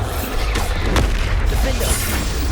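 Bombarda explosion spell going off in the Hogwarts Legacy video game, a loud booming blast with a sharp crack near the middle, over a dense rumbling game soundscape with a voice calling out.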